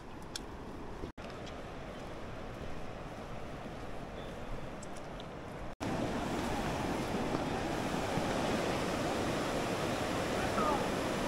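Fast-flowing river beside an ancient Hakka village with old banyan trees near Huaiyuan Lou: a steady, rushing wash of water that grows noticeably louder partway through, with wind-like noise and no talk.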